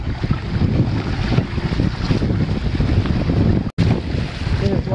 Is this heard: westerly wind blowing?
yes